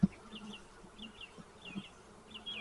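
Honeybees with Italian genetics buzzing around a hive, a faint, wavering drone with several passing buzzes near and far.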